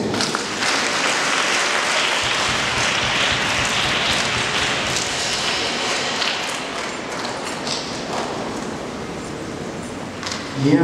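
A church congregation applauding for Jesus during a communion service: sustained, dense clapping from a large crowd, loud and continuous throughout, with a few voices mixed in.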